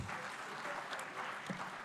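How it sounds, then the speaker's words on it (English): An audience at an urban development conference in Uganda claps for a panel, a brief stretch of steady, moderately loud applause with faint voices mixed in. "Another round of applause for the panel."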